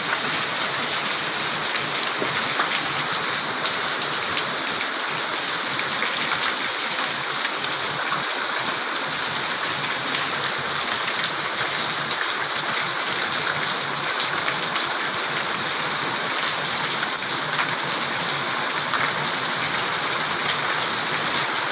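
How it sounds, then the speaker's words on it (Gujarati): Heavy rain pours down steadily and loudly for the whole stretch, a dense unbroken hiss of drops beating on surfaces with no letup. "અત્યારે વરસાદ ફૂલ ચાલુ છે."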